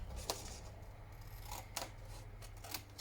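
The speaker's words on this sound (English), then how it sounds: "I'm going to cut up that section there" Scissors cutting folded paper while making an envelope folder, heard as a few faint, sharp snips spaced apart over a steady low background hum, quiet and close, with no voices.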